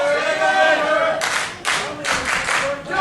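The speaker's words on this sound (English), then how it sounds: "Hear this crowd again." A crowd at a pro wrestling event claps in several loud, ragged bursts of applause, following a moment of nearby talk at the start.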